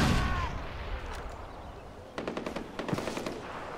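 Gunfire in the video game Far Cry 4: a loud blast at the start fades out, then rapid bursts of machine-gun shots crack close by near the end.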